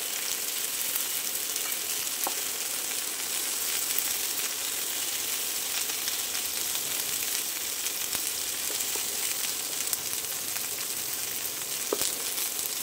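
Halved tomatoes fry in a pan with a continuous close sizzle that stays steady throughout, with a few faint clicks and scrapes on top and no talking.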